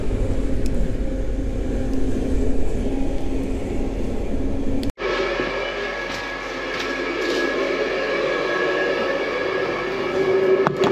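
Inside the IC Pomorzanin passenger train travelling between Tczew and Wrocław, a loud, steady rumble of wheels and carriage fills the space. The noise briefly drops out partway through, then resumes with a brighter hiss, and nobody speaks.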